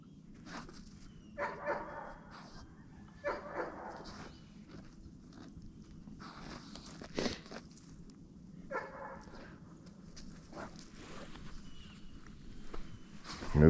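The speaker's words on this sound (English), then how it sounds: "These dogs got incredible sniffers." A dog searches for truffles, sniffing and digging through the ground in scattered bursts of scratching and rustling, with faint snuffling and a few small whimpers nearby.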